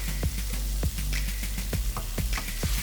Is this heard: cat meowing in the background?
no